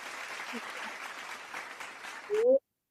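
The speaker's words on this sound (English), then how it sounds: "That's a round of applause for Never Unpack." A small audience gives a soft round of applause, a steady patter of clapping at a distance that ends abruptly.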